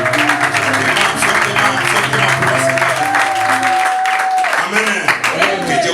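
A church congregation at a fifth-anniversary service in Durban applauds the Lord, with sustained loud clapping and cheering filling the room while music plays and a voice rises over the crowd.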